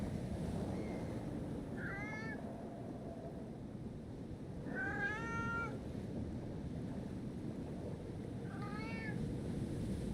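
A cat meows three times, each call a rising, wavering cry standing clear above a steady roar of wind or surf outdoors.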